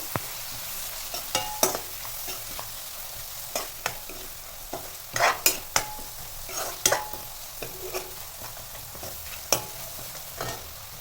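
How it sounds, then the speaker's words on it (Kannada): Onions frying in oil in a pan for vangi bath, a soft continuous sizzle broken by sharp scraping stirs at an uneven rhythm, close and alone with no voices. "ಚೆನ್ನಾಗಿ ಖಾರ ಹಚ್ಕೊಳ್ಳಿಕ್ಕೆ ಚೆನ್ನಾಗಿ ಫ್ರೈ ಮಾಡ್ಕೊತಾ ಇದ್ದೀನಿ ನಾನು"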